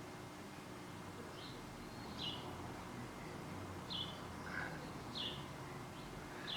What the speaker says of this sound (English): really there's lots of birds